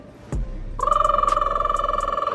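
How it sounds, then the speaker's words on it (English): After a single dull knock, a phone starts ringing close by with a rapid, pulsing electronic tone that repeats steadily and loudly until the end. "Your phone ringing."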